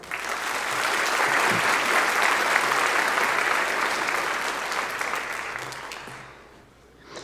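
An audience at a school spring band concert in Arkansas applauds for a virtual student, a broad, even roar of clapping that holds steady for several seconds before fading away near the end.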